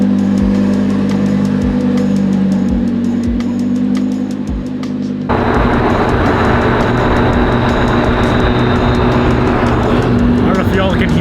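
A turbocharged vehicle engine roars loudly and steadily, with a high turbo whine rising over a dense broadband rush as it picks up partway through, close and continuous without any talk.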